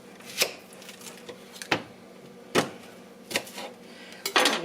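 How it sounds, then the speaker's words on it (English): Sharp knife chops on a cutting board while making chili: five crisp, well-spaced strikes close by, ending in a quicker cluster of cuts. "I'll just chop it right here where you can see me do it"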